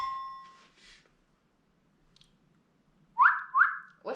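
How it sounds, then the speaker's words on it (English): A person whistles two short rising notes near the end, clear and close, after a long stretch of near silence with a brief tone at the start. "Whistling."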